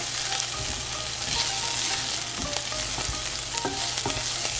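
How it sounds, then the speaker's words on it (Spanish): Garlic, onion and a little turmeric sauté in a pan with a dense, continuous sizzle close by, with faint stirring clicks and small pops scattered through it, and no voices. "después de sofreír el ajo, la cebolla y el poquito de cúrcuma"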